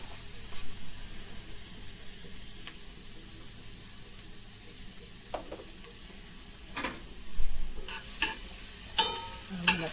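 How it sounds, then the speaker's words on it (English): Mushrooms sauteing in butter in a pan, giving a soft continuous sizzle with occasional stirring clicks and scrapes that grow more frequent and louder toward the end, with no talking. "I'm going to saute"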